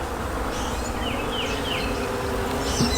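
Honey bees buzz steadily inside an active hive with comb, a dense continuous drone with faint high whines from individual insects drifting close and away, no voices.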